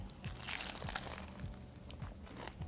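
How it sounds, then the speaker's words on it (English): Biting into a slice of quiche with a blind-baked flaky crust gives a busy, close crunching and crinkling that fills the moment, fairly quiet overall. "You hear that crunch on there?"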